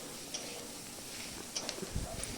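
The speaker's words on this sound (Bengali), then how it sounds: "ধীরে ধীরে ভেজে নেব।" Mixed vegetables fry slowly in a pan, a soft, even sizzle with a few light clinks of stirring near the end.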